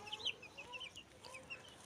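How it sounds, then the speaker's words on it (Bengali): Layer hens freed from their coop cluck in short, repeated bursts, several birds calling close by in quick, uneven succession with no voices. "আমি আমার মুরগির ঘর থেকে আমার লেয়ার মুরগিগুলো ছেড়ে রেখেছি।"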